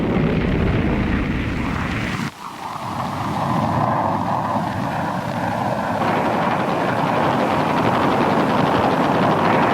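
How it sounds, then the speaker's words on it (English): Fighter-bomber air attacks over North Vietnamese rear areas, a loud continuous jet roar with heavy low rumble, a sudden dip, then a sustained rushing engine drone close by. "fighter bombers roamed with orders to pounce on any movement"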